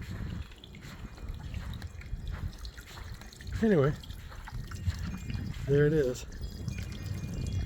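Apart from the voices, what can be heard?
solar powered backyard waterfall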